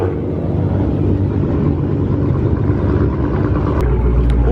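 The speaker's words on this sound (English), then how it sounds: "There's that Audi R8 we saw at the gas station. That is loud." A loud Audi R8 engine rumbles continuously at a car meet, a heavy low roar filling the whole stretch with a brief sharper burst near the end.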